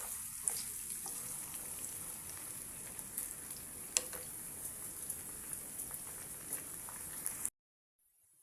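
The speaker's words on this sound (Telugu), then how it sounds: "ఆనియన్ అనేది ఇలా ఫ్రై అయింది కదా" Onions frying in a pan: a steady, soft hissing sizzle with scattered tiny pops, fairly quiet and continuous before cutting to silence near the end.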